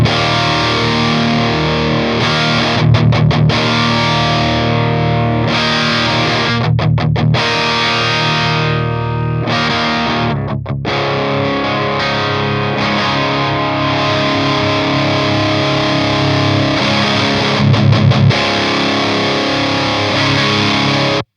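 Heavily distorted electric guitar through a small high-gain distortion pedal rings out loud and saturated, sustained chords with a few brief pauses and re-attacks, no voices.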